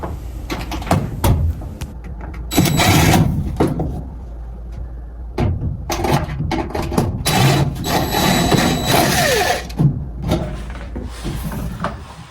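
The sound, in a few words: removing screws from the back cover of an LG washing machine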